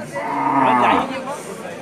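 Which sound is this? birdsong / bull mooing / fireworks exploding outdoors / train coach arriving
bull mooing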